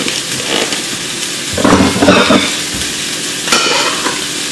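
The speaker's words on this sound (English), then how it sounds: "I'm gonna go ahead and just start to fry up the turkey and ham" Two slices of turkey and two slices of ham fry in a pan with a steady, close sizzle that swells in the middle, with light scraping and clatter of a utensil.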